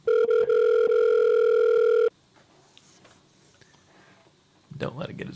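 A telephone dial tone sounds loud and steady for about two seconds as a call is placed, then cuts off to near silence before a voice speaks briefly at the end.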